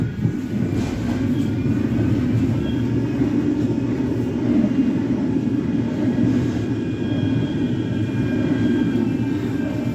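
Steady low rumble of a tram travelling through Shaw, running continuously and fairly loud with a constant rolling drone throughout.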